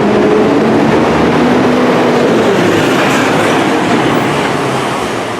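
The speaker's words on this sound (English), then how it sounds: "Oh, noisy trucks." Heavy traffic rumbles past at close range early in the morning: a loud, continuous roaring wash of engine and road noise that slowly eases toward the end, with no talking.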